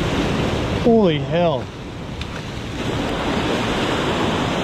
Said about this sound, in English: Oh God, here comes some waves.